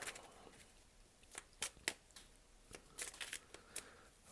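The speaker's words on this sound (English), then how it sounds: "there are moments of silence while I might be shuffling the cards" Tarot cards are shuffled by hand in a quiet room, a series of soft, close riffling snaps and papery flicks in irregular bursts with short pauses between them.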